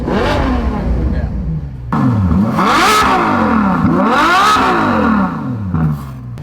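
A Ferrari's engine starts up and is revved repeatedly, loud and close. The pitch climbs and falls in repeated sweeps, with a brief dip between blips.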